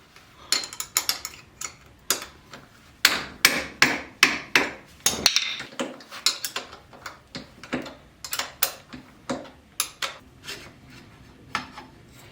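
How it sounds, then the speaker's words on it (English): Wrench loosening the brake caliper bolts on a Harley-Davidson Road Glide: a series of sharp metallic clicks and knocks in an uneven rhythm, close and fairly loud, with a brief rubbing scrape in the middle. "now I'm gonna crack the caliper bolts"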